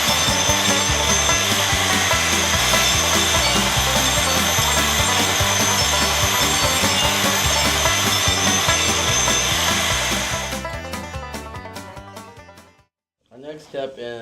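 A belt sander runs steadily and loudly across the top of a mesquite wood mantle, holding an even grinding roar for about ten seconds before it winds down and stops.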